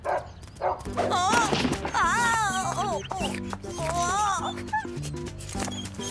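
A dog yips, whimpers and barks in quick bursts over a steady musical bed, close and fairly loud throughout.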